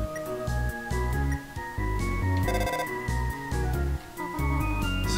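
A cell phone rings in the video game Undertale, a repeating chiptune-style ringing tone in short regular bursts over looping game music, loud and clear with no talking.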